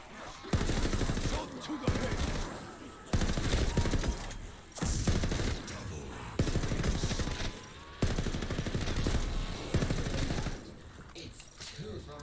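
Bursts of automatic gunfire from Call of Duty Vanguard Zombies come in loud, repeated volleys separated by short pauses, with a voice talking between them.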